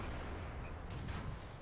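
In the tank game World of Tanks, a tank gun shot strikes an artillery vehicle. A muffled boom and a short crackling burst rise over a constant low game rumble, with no talking.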